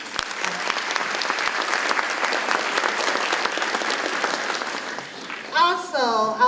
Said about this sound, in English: I would like to start this program by asking you to join me in a round of applause for Dr.